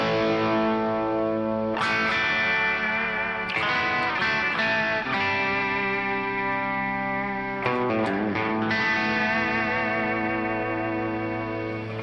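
Electric guitar through a heavy distortion effect with the volume knob rolled down, ringing sustained chords that shift every couple of seconds, played alone, loud and steady throughout.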